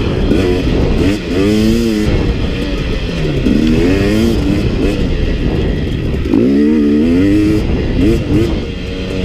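KTM 250 and 300 two-stroke dirt bikes from 2017 are ridden hard in the desert, the engines revving loudly and repeatedly rising and falling in pitch close by, with wind noise throughout.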